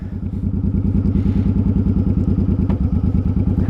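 A motorcycle converted to an automatic clutch idles with a rapid, even thumping engine pulse, loud and close, with a faint clunk as it drops into gear.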